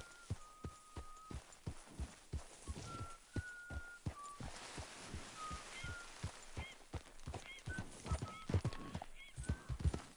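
Horses in the video game Red Dead Redemption 2 walk with a steady clip-clop of hooves and give occasional short neighs and whinnies, fairly quiet and with no talk.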